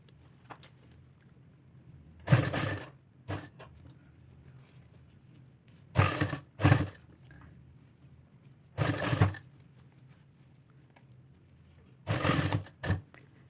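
Short bursts of a sewing machine stitching crossed cords onto a trouser hem, four brief runs of rapid whirring separated by quiet pauses, close and clear with no talk.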